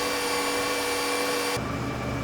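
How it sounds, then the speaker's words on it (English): A combine harvester in the Farming Simulator 15 video game, running at 4x speed, drones with a steady vacuum-like whine and hum, then the tone shifts abruptly lower and rougher partway through, with no talking. "pay very close attention to how much this combine sounds like a vacuum cleaner at 4"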